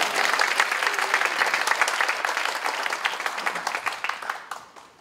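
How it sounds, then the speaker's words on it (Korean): Church gathering audience applauding steadily and densely, a full crowd clapping close by that thins and fades away near the end. "박수 나와야 되는 거예요."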